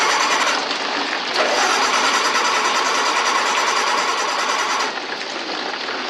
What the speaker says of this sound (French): Il s'agit du moteur permettant de mettre en route au générateur qui est notre seule source d'électricité